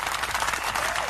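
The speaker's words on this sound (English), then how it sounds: "let's give a big round of applause to our" Audience applause at a corporate conversation event on workplace burnout, steady dense clapping filling the whole moment at close, even loudness with no pauses.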